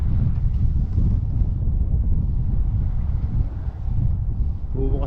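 Strong cold wind buffets the microphone in a loud, steady low roar, heard outdoors near the water from a pedicab. A voice speaks briefly near the end.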